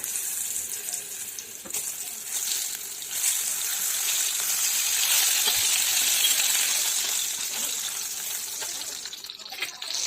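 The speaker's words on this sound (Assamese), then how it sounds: "এইফালে তেলখিনি গৰম হৈ গৈছে আৰু এতিয়া মই পটলখিনি ফ্ৰাই কৰি লম।" Pointed gourd (potol) fries in hot oil, giving a steady, soft hiss of sizzling that swells slightly and then eases. No voices are heard.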